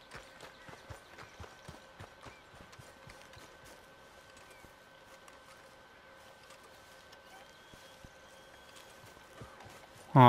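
Horse hooves clip-clop in the Red Dead Redemption 2 video game, a light, irregular series of faint thuds under a low steady hum that thins out midway, ending in a sudden loud burst.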